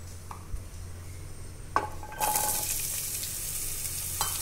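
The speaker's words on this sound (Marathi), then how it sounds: "इथं कढईमध्ये मी तेल टाकले, ते गरम व्हायला ठेवलंय। आता आपण त्याच्यामध्ये कारलं टाकूया।" Bitter gourd pieces sizzle in hot oil in a kadhai, a steady frying hiss that swells as they go in, with a few clinks of a stirring spoon against the pan.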